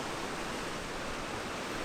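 Ocean waves breaking on a reef off Madeira, a steady broad wash of surf with no distinct individual crashes, close and continuous throughout.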